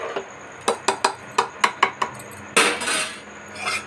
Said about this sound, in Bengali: এতে ঢাকনা চাপিয়ে দিলাম।